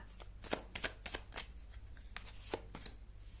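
Tarot cards being shuffled by hand, a quick series of soft riffling snaps and papery slaps, close and fairly quiet.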